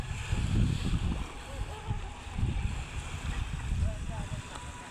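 Small boats arrive at a shallow seashore with a beach nearby. A low, uneven rumble of engines and water churning rises and falls under wind noise, with voices in the background.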